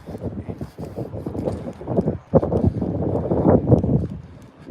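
Gusty wind buffets the microphone in low rumbling bursts, rising and falling, with a short lull midway.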